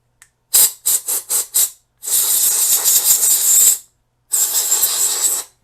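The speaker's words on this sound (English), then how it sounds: "I'm just going to hit it with a little compressed air." Compressed air blasts into a Sony CFD-S22 CD boom box that won't play discs: four short quick hisses, then two long steady sprays, each loud and close, with no talking.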